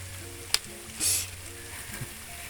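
Soft, steady sizzle of bananas frying in oil, with a sharp click and a brief louder hiss partway through, no voices.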